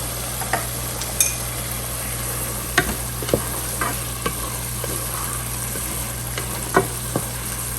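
Roasted ground cumin frying with okra in a non-stick pan, a steady soft sizzle with occasional scrapes and taps of the stirring spoon against the pan, under a constant low hum.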